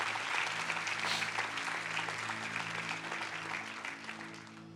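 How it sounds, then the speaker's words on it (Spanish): Congregation applause in a church, a steady dense wash of clapping held at even loudness throughout, with sustained organ or keyboard tones underneath. "Denle un fuerte aplauso a Dios por eso."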